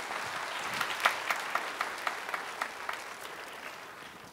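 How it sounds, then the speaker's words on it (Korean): A church congregation at a Korean worship service gives a short round of applause, a soft, distant patter of clapping with a few sharper individual claps standing out, fading away after a few seconds. "박수 한번 주세요"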